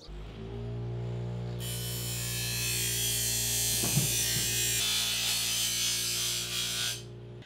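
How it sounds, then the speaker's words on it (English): Power grinder cutting a metal tab off a bilge pump bracket for a jon boat, a loud, harsh, continuous grinding whine over a motor hum, close by and running for several seconds before spinning down. "I got that tab grinded off."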